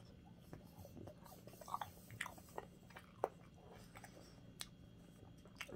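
Someone eats bangers and mash with mashed potatoes in a quiet room, producing close, soft chewing and crisp biting clicks in an irregular rhythm with no voices.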